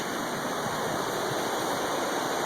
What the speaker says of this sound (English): We sit here by Slippery Rock Creek.